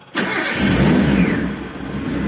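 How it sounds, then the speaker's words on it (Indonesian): A Daihatsu Zebra Espass car engine cranks and catches at once, then settles into a steady, close idle with a slight rev, no talking over it. "Nah ini mobil langsung bisa hidup ya, gampang hidupnya."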